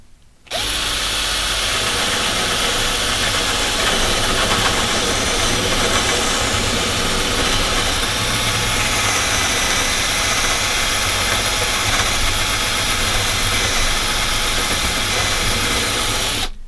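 Power drill boring through a wooden board, a loud steady whine held at constant speed for about sixteen seconds, close and alone with no talk.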